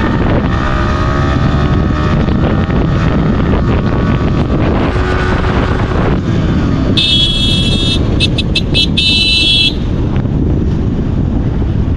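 A Yamaha R15 V3 motorcycle's engine drones steadily in fourth gear during a top-speed run. Heavy wind roar on the microphone largely buries the engine, and a brief high electronic beeping cuts in partway through.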